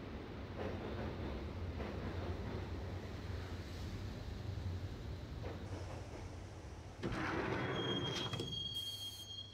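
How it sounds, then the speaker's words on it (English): A train rides the rails toward Roscoe Street Station in the Max Payne video game, a steady rumbling roll of wheels with rising squeals and a sharper metallic screech near the end, heard alone and fairly faint. "the train doors had already shut behind me, and I was in for the ride"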